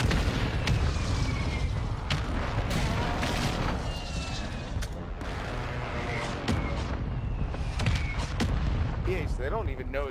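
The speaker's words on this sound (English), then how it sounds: "Shots." Gunfire in a video game cracks out as a string of sharp shots at irregular intervals, some close and loud, others more distant, over a rumbling background.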